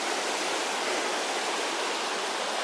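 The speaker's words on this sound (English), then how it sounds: "we're coming to this nice little stream here" A small mountain stream on the Appalachian Trail in March, rushing in a steady, dense, close-up roar of flowing water with no break and no voices.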